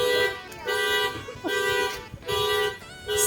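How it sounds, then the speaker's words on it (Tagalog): Car traffic on a road in Tagaytay, near roadside coffee shops: repeated loud horn-like toots come in several bursts with short gaps, over a steady rumble of passing vehicles. "ang ingay nung sasakyan"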